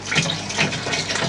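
Water runs back through an indoor hydroponic nutrient film system, a steady close trickling and gushing flow with no voices.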